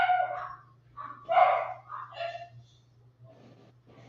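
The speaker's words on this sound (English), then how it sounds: "I hear my dogs." Pet dogs bark in short bursts a few times, moderately close but not loud, over a steady low electrical hum with no talk.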